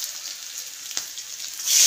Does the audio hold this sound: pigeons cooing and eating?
no